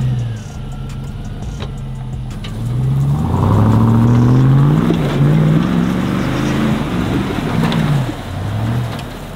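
A lifted Chevrolet Z71 truck revs hard while doing donuts, engine pitch rising and falling in repeated swells, loud and close with a throaty drone throughout and no talk.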